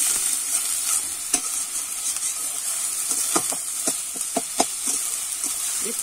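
Onion paste fries in a pan as it is stirred: a steady close sizzle broken by a series of sharp scraping and clinking stirring strokes, more frequent toward the end.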